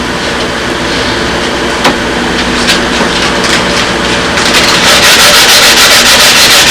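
Close, steady rasping of sandpaper on a wooden model airplane wing's leading edge sheeting, continuous rubbing that becomes louder and more rhythmic in the last couple of seconds.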